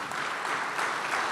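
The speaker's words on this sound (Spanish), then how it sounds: "dele un aplauso fuerte, fuerte, que todavía queda ánimo" A church congregation claps steadily during a worship service, a continuous wash of applause at moderate level with no speech on top.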